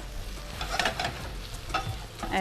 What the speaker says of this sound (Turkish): soğanı olacak. yağda bir kavuruyoruz.